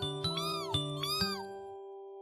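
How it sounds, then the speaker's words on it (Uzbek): Three bright, rising-and-falling kitten meows from a cartoon follow one another quickly in the first second and a half, with a steady held tone and tinkly background music underneath, then the sound trails off. "Mushukchamiz yoqimtoy biram, uni hamma yaxshi ko'radi."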